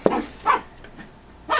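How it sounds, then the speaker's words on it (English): A dog with the zoomies gives three short, sharp barks spaced across about a second and a half, loud and close indoors, with no talking. "If you hear any weird noises, it's coming from the dog. He has the zoomies"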